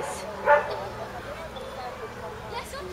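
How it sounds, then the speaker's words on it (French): A young Shetland sheepdog gives a single sharp yip-like bark at an outdoor dog agility event, heard over steady crowd murmur and background speech. "tout jeune chien qui sort pour la première fois devant en dehors de son club"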